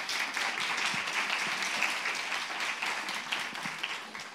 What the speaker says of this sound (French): Si, on peut applaudir,